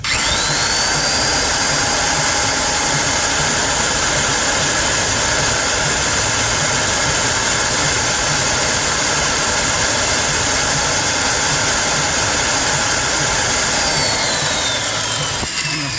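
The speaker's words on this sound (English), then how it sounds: "I'll come back when I have this pilot hole drilled" A power drill grinds steadily at a hardened chrome locking lug nut while boring a pilot hole, a loud, continuous whine with a constant drone that runs unbroken throughout with no talking.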